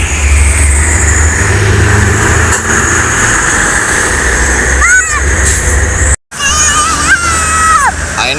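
Bus traveling along a road in Palembang, approaching from the toll road direction near Musi 2, with a steady low engine rumble and passing traffic noise close by and a bright horn-like tonal sweep near the end.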